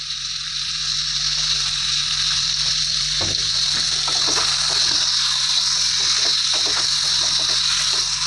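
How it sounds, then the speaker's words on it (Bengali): Meat sizzling and being stirred in a pan for a curry with green chilli paste. A loud, steady frying hiss carries on continuously, with occasional faint scrapes and clicks. "মাংসটাকে ভালো করে কষাতে থাকবো।"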